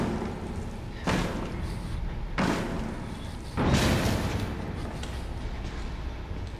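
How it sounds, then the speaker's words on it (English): Heavy repeated thuds of an enemy bashing against a door in the horror game Outlast, three loud broadband impacts roughly a second or more apart over a dark rumbling game ambience, with no talking. "So he's gonna start bashing down the door."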